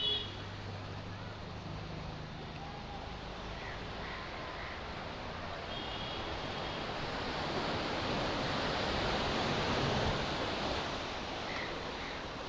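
Sea waves at Digha beach roll in as a steady broadband wash, swelling slightly louder midway with wind noise on the microphone and no speech.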